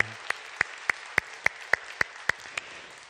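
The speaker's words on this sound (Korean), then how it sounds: "감사와 영광의 박수 힘차게 올리겠습니다" A church congregation at an Onnuri Church youth worship gathering claps together in steady unison, about ten sharp, evenly spaced claps in a brisk rhythm, fairly soft and distant.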